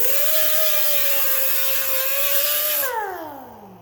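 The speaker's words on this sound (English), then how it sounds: "Here's my grinder." An angle grinder pressed against a square piece of rusty metal, its motor holding a loud steady whine for about three seconds before winding down as the tool is released.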